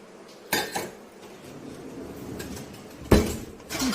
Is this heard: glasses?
yes